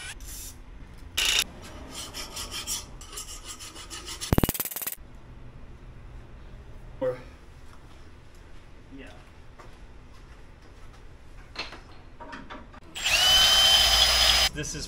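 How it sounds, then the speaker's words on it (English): Intermittent bursts of a drill grinding a hole into metal sprayed with WD-40, with short scraping and clanking noises between, ending in a loud sustained whine. "You drill your hole."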